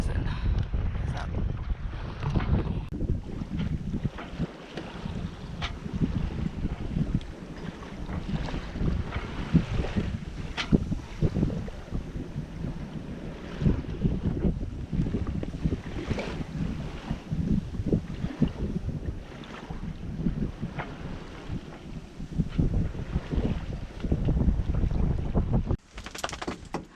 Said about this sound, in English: we finally got a little wind with us now